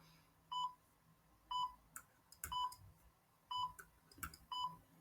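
A countdown timer beeps five times in a steady rhythm about once a second, each a short clear electronic tone, with faint clicks and room noise between the beeps.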